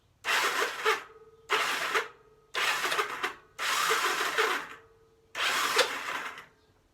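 Five bursts of a rough, grinding starter motor on a Honda CL 350 motorcycle, each lasting about a second with short pauses between, loud and close with no talking.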